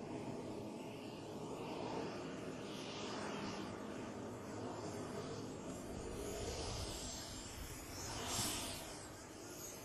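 A model airplane fitted with two drop tanks runs its engine as it turns and lines up on the runway center line, giving a steady, faint, hissing drone with no voices.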